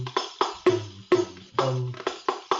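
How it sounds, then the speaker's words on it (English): Deep booming dum strokes mixed with sharper tak hits trace a short, steady riff in a Muwashahat iqaa rhythmic cycle. About nine clear strikes ring out up close with no other sound. "they're playing a bass line or a small riff"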